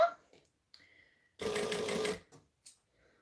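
A sewing machine stitches piping along a fabric edge over earlier green stitching, one loud burst of rapid running lasting under a second, framed by short talk and small handling clicks.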